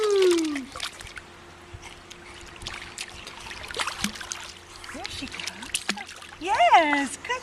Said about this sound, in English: Yes, good splashes.